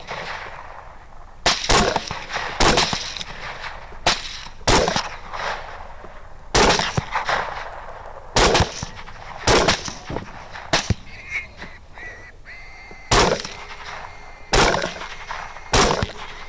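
Gunshots fired during a thermal-scope night hog hunt, a rapid series of sharp, loud reports spread across the clip, some close together and others spaced apart, with no talking.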